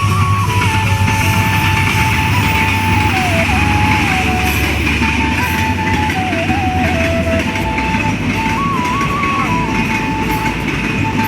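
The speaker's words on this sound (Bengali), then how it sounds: "যাওয়ার সাথে সাথে ট্রেন চলে এসে বাংলাদেশে" A train rolls in at the Hili rail crossing on the India–Bangladesh border, a loud steady rumble of wheels and carriages with a sustained engine tone throughout, no talk over it.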